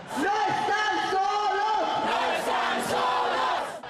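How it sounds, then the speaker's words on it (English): A protest march crowd heading through downtown to a federal detention center, many voices chanting together in a loud, rhythmic bilingual chorus that swells into cheers, close and continuous throughout. "The crowd chanted, "No están solos, you aren't alone," and erupted into cheers"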